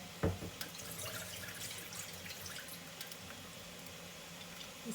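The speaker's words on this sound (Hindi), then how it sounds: "अब इसके अंदर हम लोग चावल डाल देंगे।" A soft, continuous crackle and patter of rice grains dropping into boiling water, starting with one sharper splash and then settling into a steady hiss.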